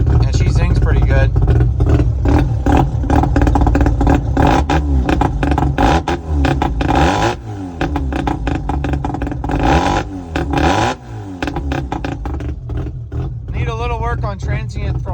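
Mazda RX-7 rotary engine fitted with a lightweight flywheel revs hard and loud, rising and falling in quick zinging sweeps, with someone talking over it.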